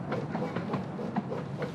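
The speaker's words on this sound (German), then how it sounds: "So, der Zug ist mit Zugschluss an der Zugschlussstelle vorbei." A park railway train (Parkbahn, formerly a pioneer railway) rolls past with a rhythmic clickety-clack of wheels over rail joints, a steady moderate rumble at close range.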